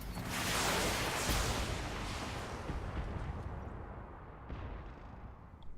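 Mech weapons firing in the video game BattleTech: one loud, booming blast swells up and then rolls off in a long, rumbling decay, with no voices over it.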